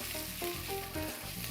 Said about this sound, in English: You'll hear a little sizzle and you give the pan a little shake.